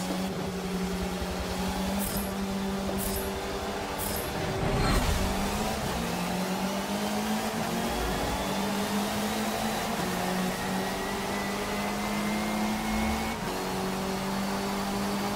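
Race cars in Forza Motorsport 7 played on a Logitech G920 wheel, with a steady loud engine drone that rises and shifts pitch through gear changes and a brief surge of passing cars around the middle, with no talk.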